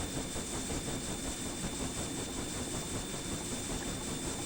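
Steam hisses steadily from the opened cylinder cocks of an idling Kb class steam locomotive, a dense and unbroken rush close by that holds evenly throughout.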